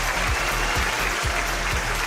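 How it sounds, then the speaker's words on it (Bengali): Studio audience applauding on a Bangladeshi edition of the Family Feud game show, a steady, dense clapping that fills the whole moment at close range with no one talking over it. "আপনাদের জন্য বড় একটা হাততালি।"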